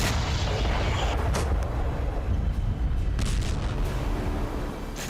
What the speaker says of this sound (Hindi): न्यू मैक्सिको के शांत रेगिस्तान में एक ऐसा धमाका हुआ